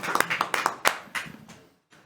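A small conference audience claps for a panel speaker, a short burst of scattered applause that thins out and fades within about two seconds.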